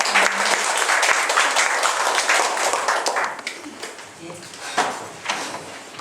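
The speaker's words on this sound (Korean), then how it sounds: "박수로 맞이해드릴까요?" Audience applause at a Catholic street mission group's one-day retreat, lively clapping that swells loudly at first, then thins and tapers off, with faint voices mixed in.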